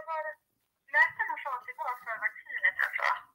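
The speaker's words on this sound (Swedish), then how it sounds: "Nu ringer det." A telephone gives one short electronic ring, then a voice speaks with the thin, narrow sound of a phone line.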